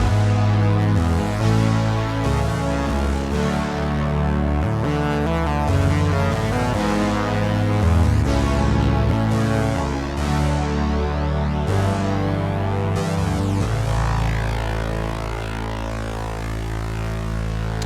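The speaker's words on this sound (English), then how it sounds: "It's a modern Oberheim synth that's very similar to like the OBXA" Oberheim OB-6 analog synthesizer playing a secondary bass part with a lead character, a sustained, wide, dense tone in a continuous melodic line within a full mix, steady and loud throughout.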